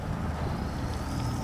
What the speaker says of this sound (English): We're hearing boats long before we see them.